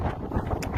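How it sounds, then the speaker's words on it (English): Wind gusts buffet an outdoor microphone, a dense low rumbling roar with brief swells, loud and continuous throughout the short moment. "suddenly got windy"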